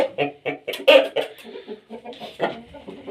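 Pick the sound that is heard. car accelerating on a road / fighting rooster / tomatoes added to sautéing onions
fighting rooster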